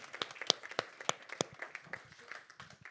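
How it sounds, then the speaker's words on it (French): A small audience at a forum on tourist furnished rentals claps, a sparse, quiet scattering of individual claps with a few louder nearby ones, thinning out toward the end. "Vous pouvez l'applaudir."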